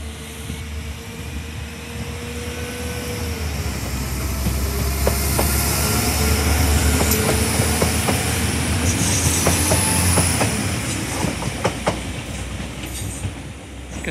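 Train 404 pulls out of Carrickfergus station, its rumble building and then fading over several seconds, with clickety-clack wheel beats and a thin squeal of wheels on the rails.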